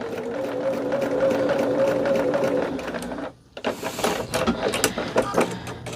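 Domestic sewing machine stitching a quilt in a sewing room, running steadily and close for about three seconds, then stopping briefly before softer, irregular handling clatter follows.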